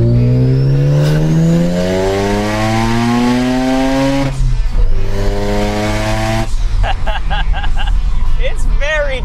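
A loud Mazda FD RX-7 rotary engine revs hard on boost and climbs in pitch, drops, then surges again into rapid harsh bursts, close and aggressive.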